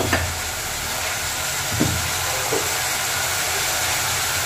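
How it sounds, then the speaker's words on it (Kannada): Onions fry in a pan with a steady, soft sizzle, and a few faint clinks of stirring break through the constant hiss. No one speaks. "ಇದು ಫ್ರೈಡ್ ಆನಿಯನ್ಸ್ ಮಾಡೋಕ್ಕೆ ಈರುಳ್ಳಿನ ಹಾಕಿ ಫ್ರೈ ಮಾಡ್ತಾ ಇದ್ದೀನಿ"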